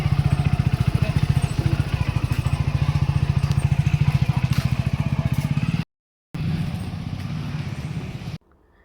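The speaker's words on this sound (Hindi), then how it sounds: "देखो यशवी आ रही है अपने चाचू के साथ बाइक पे।" A motorbike passes in a village outside an old temple during a Basoda festival visit. A steady, close engine drone with a rapid pulsing beat runs loudly for several seconds, cuts out briefly, then resumes before stopping.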